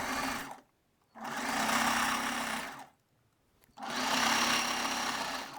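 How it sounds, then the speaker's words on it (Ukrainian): A sewing machine set to a wide stitch runs along a fabric edge, laying elastic under lace for a bust piece, in two steady loud bursts separated by a short pause. "Виставляю налаштування на широку строчку і прокладаю резиночку прямо по краю нашого зріза."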